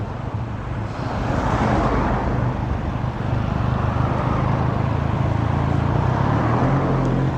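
Steady road traffic hums and rumbles nearby, a continuous drone of engines and tires with no voices.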